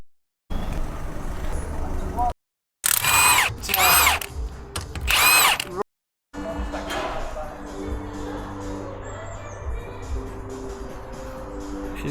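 A power tool works on a vehicle's new tyre after a flat, with loud bursts of whirring and rattling separated by short silent gaps, followed by steadier roadside rumble and faint voices.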